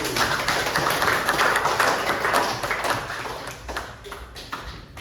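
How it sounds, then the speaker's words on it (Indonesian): Classroom applause for presenters, a dense patter of many hands clapping together, loud at first and gradually thinning out toward the end. "kita beri aplaus dulu"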